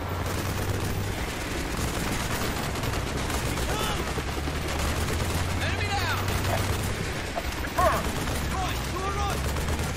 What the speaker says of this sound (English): I think this is where we bring out the assault rifle.